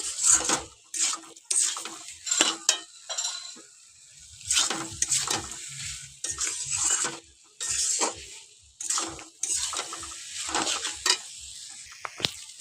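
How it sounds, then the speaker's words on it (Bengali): Chopped tomato is stirred into mutton frying for a red-gravy goat curry. A spatula makes repeated, uneven scraping strokes against the pan, each a short burst over a soft sizzle, close and fairly loud. "টমেটো কুচিটা দিয়ে খুব ভালোভাবে কষিয়ে নেব"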